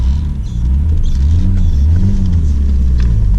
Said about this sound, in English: Just got that little bit of an injector noise going on still.